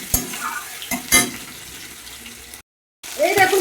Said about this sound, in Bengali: তেলটাকে আমি ভালো করে ভেজে নেব